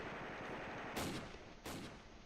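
Two sharp cannon or gunfire blasts from a T-34 tank in the Close Combat war video game ring out about half a second apart over a low battle hum, fairly faint overall.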